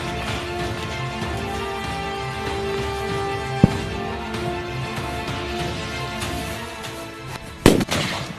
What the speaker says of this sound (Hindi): चारों तरफ से देखिए आप फायरिंग हो रही है।